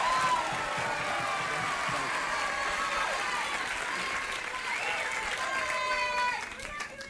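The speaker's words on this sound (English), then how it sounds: "That was lovely applause" A game show studio audience applauds warmly at a 1978 All-Star Family Feud taping, sustained crowd clapping with a host's voice heard over it before the applause trails off near the end.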